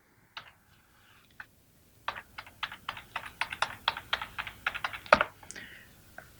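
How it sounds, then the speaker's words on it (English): A password is typed on a computer keyboard, a few isolated key clicks followed by a quick close run of crisp taps ending in a firm final keystroke. "Next, I'm going to hit Tab and come down to the password line and enter in my password."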